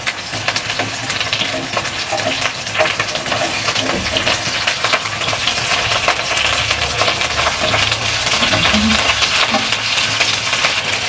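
Fish fries in a pan with a loud, continuous crackling sizzle, broken by scattered clatters and knocks as the pieces are flipped.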